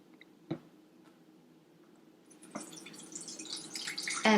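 Water poured into the top of a Mavea Elemaris XL water filter, starting with a few faint drips and taps, then building into a louder trickling, splashing stream toward the end.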